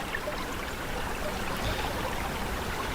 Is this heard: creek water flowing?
yes